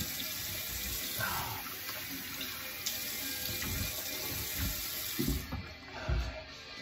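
A bathroom sink tap runs steadily during a straight razor shave while hands wet and rinse the face, with soft splashes breaking the constant flow near the end.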